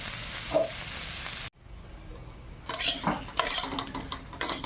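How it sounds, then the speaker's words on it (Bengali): Potatoes fry in a pan with clattering utensil and pan knocks over a sizzle, a brief near-silent gap, then renewed stirring scrapes and clinks close by. "আলুটা ভাজবো"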